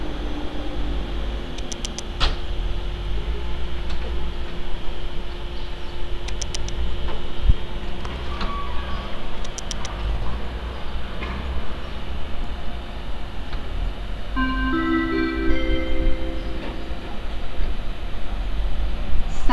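Express train Detvan, running from Zvolen and Žilina toward Praha, passing Púchov station with a steady low rumble and hum, faint metallic squeals and tonal whines rising near the end, no talk.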